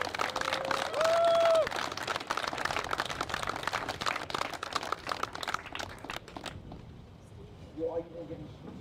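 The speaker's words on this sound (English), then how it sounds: "could we just take a minute and give them a really long round of applause?" An audience gives a sustained round of applause at a construction-industry veterans appreciation event; dense clapping fills the room for several seconds, then thins out into quieter room sound with a voice.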